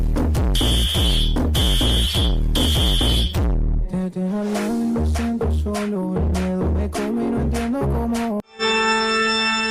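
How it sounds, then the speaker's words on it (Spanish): A smoke detector alarm sounds in three loud, piercing beeps near the start, then gives way to steady music that runs to the end. "¿Por qué suena el detector de humos?"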